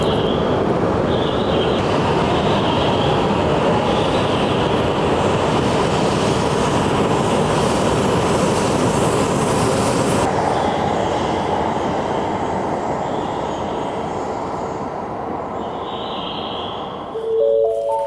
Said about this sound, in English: I get to see the Yamabiko train heading towards Morioka